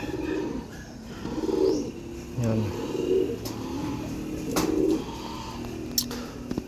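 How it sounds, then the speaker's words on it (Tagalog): A pet pigeon gives soft, repeated low coos in a steady rhythm, close by, while someone speaks briefly nearby against faint background noise. "Ito ibon ko guys dito."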